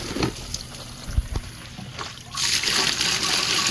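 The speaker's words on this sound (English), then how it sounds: "Raining pretty fast, let me tell you." Heavy rain pours down with water splashing and sloshing off a surface, a steady wash of noise that swells louder and denser partway through, with a few nearer splats early on.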